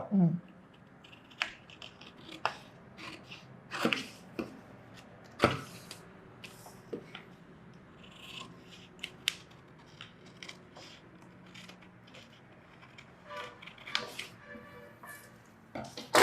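Scissors cut the front piece of a princess blouse from its lining fabric in a series of sharp, separate snips and crunches spaced irregularly across a quiet room, while someone talks softly between cuts.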